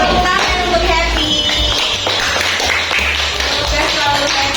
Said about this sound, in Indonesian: tepuk tangan untuk happy